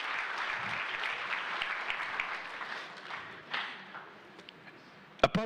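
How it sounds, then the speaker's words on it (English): Audience applause for panelists at a book launch event, a broad wash of clapping that gradually thins out and fades, moderately distant, with a few stray claps at the end. "Another warm round of applause, please, for our panelists."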